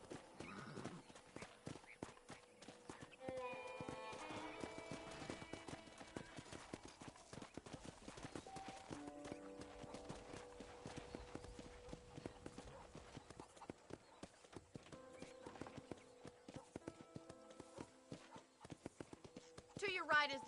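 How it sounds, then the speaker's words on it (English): Clip-clop of a horse's hooves on a ranch in Red Dead Redemption, a steady trotting rhythm running throughout, fairly quiet beneath music and a voice talking. "let's see if you can still ride a horse."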